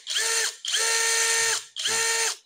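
An APR Japan 48V brushless cordless impact drill spins up in three bursts of steady, high, whining motor noise, separated by short pauses, loud and close.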